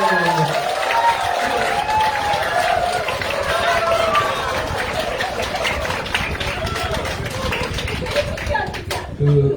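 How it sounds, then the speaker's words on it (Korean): A room of party members at a local meeting in Jeju claps together in a steady burst of applause, dense and sustained, with some voices mixed in. "박수 한번 주세요."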